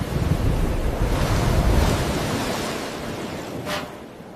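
Ocean waves crash and surge in a storm at sea, a loud, continuous roar of surf and rushing water that eases slightly toward the end, with no voices over it.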